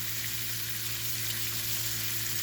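Bacon sizzling in cast iron and nonstick pans, a steady, dense crackle and hiss from close by with a low hum under it, with no talking.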